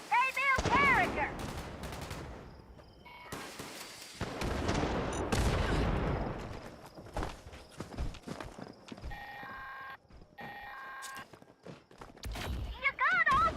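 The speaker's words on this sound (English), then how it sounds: "Don't worry about all the explosions. They build character." Explosions and bursts of gunfire from the video game Fallout 76 crack out loudly and repeatedly across the whole stretch, with a character's voice talking over the combat.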